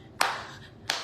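Two sharp hand claps ring out alone during a church service hymn, spaced well apart and close by.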